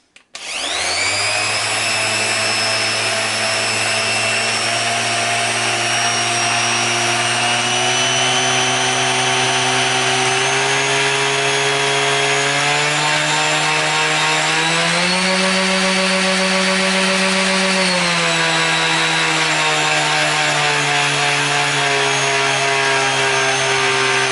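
A Parkside PMFS 200 C3 3-in-1 multi-function sander starts up and runs continuously, its steady whine rising in pitch as it steps through speed settings 1 to 6, loud and close with no talking.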